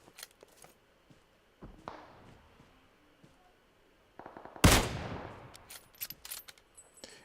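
Distant scoped rifle pop shots in a shooter video game, a handful of sharp cracks spread across the stretch with one louder burst near the middle, over quiet game ambience.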